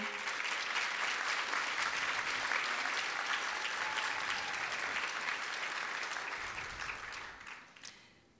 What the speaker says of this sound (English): A round of applause to the fabulous 5.